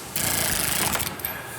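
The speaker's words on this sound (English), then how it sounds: "And then we can use our power tool to run them down." A loud, steady mechanical whir of a power tool running lug nuts down on a wheel, continuous for over a second, close by, with no voices.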